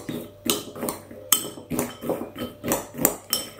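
Seasoned nuts mixed in a bowl with a spoon: a steady run of sharp clinks and rattles, roughly two or three per second, close and fairly loud, with nothing else heard.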